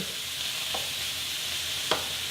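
Steady, bright sizzle of shrimp frying in a hot pan, continuous hiss with a couple of brief scraping stirs.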